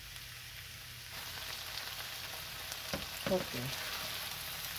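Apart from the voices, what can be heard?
tomato stewing and sizzling in a pan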